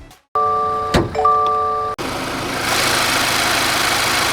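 A 2026 Subaru Crosstrek's 2.5 liter flat four engine paired with a CVT, starting with a whine and catch before settling into a steady, close, even idle hum that carries on alone without any talk.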